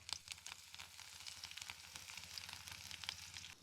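Cumin and mustard seeds sizzle and crackle in hot oil, a steady fizzing with small popping bursts, close and continuous with no voices.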